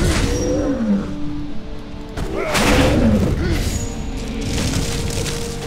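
Dragonkin monsters in the Torchlight video game roaring and growling in several deep, loud waves, mixed with booming thuds of combat and a voice talking.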